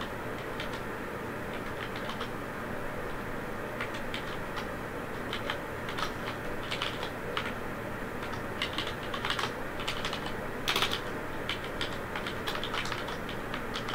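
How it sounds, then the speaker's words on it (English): Continuous typing on a computer keyboard, with dense, irregular key clicks running steadily throughout and a few louder taps near the end, close and moderately loud with no speech. "So here I am, just manually with the keyboard."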